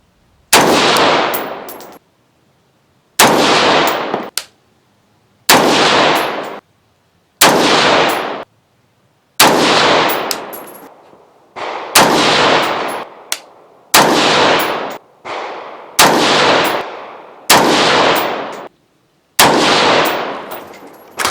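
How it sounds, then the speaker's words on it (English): Ten rifle shots fired with a light 35 grain Nosler load, each a loud sharp crack with a ringing tail, spaced evenly a couple of seconds apart. "5 shots from Erica and 5 shots from me"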